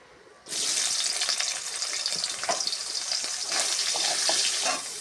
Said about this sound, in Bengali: পরিমাণ মতন তেল দিয়ে তেলটা ভালো করে গরম হলে সোয়াবিনটা ভেজে তুলে দেওয়া হবে।